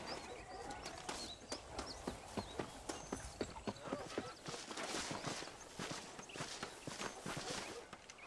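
Horse hooves clip-clop at a steady walking rhythm in the Red Dead Redemption video game, clear and close, with faint ambient birdsong and background mechanisms.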